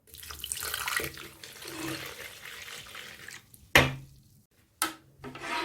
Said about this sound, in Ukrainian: Ми заливаємо воду в пластівці, а не навпаки